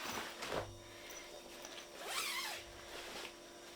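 A clothing zipper pulled open in a few quick rasping strokes, close by and clear, with short pauses between pulls and no talking.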